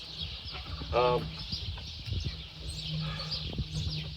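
Chickens clucking in a farmyard, a short burst of stacked clucks near the start, then scattered softer clucks over steady background noise and low hum.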